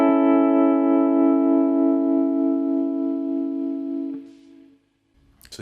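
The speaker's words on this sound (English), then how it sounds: "So it's just giving a little bit of tremolo." A sustained electric guitar chord played through a tremolo pedal on its sine wave setting rings out with a gentle, subtle pulsing wobble, then fades away into near silence.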